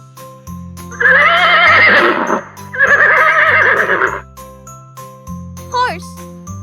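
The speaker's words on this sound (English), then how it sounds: "Horse." Horse neighs in two long, loud whinnies with a softer trailing call, set against light jingling music and a voice in a farm-animal learning piece.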